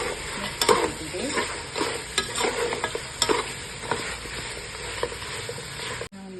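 Mutton is stirred in a sizzling pan with turmeric and chili powder, a spoon scraping and clinking in irregular strokes over a steady close frying hiss.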